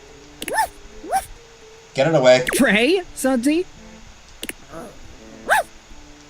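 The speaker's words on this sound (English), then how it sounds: "A strange creature that looks and sounds like a soapy little dog jumps up at your legs, yapping and barking." Soapy little dog creature from the video game Date Everything yapping and barking in short sharp bursts, with a frantic voice shouting over and between the barks.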